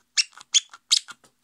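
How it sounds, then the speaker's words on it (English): A squeaker sewn into the tongue of a sock puppet gives three sharp, high squeaks in quick succession, each followed by a softer squeak, close and clear against silence. "The nice thing about this puppet is that they've added the little squeaky bit in the tongue."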